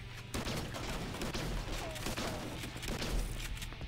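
Rapid gunfire from the Earn to Die Rogue video game, a dense continuous fusillade of shots with booming low thuds, steady and loud across the whole stretch.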